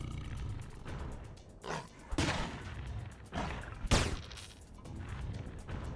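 Rapid full-auto bursts from a weapon in the online game Anarchy Online, several loud volleys of shots at irregular intervals with a roaring, booming character and a quiet lull between them.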